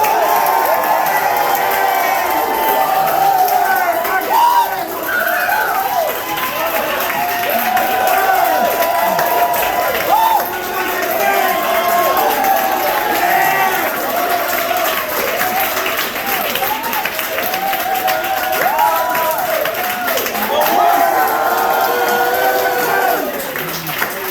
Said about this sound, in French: faites un maximum de bruit pour Maxime Valois!